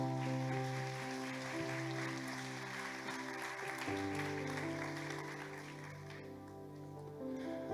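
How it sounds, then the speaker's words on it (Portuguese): A church congregation at a Sunday evening service claps steadily beneath sustained music, a soft, even patter of applause mixed with held organ-like tones. "Aplauda Jesus"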